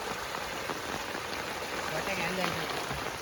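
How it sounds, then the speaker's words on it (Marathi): Heavy rain pours down in a steady, even hiss that holds without a break, moderately quiet and continuous. "बस जाम जोरात पाऊस आलाय जाम जोरात"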